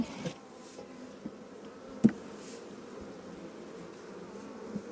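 A dense swarm of honeybees hums steadily on a beehive frame, soft and close, with a few faint knocks and handling noises and no talking.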